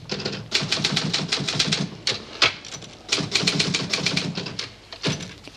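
Rapid, uneven keystrokes clatter from a manual typewriter at close range, in bursts with brief pauses and occasional sharper strikes, with no voices.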